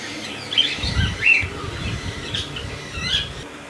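Parrots at a Karachi bird market squawk and chirp while eating sprouts, several sharp, bright calls scattered over a few seconds above low rustling and background noise, fairly close, without speech.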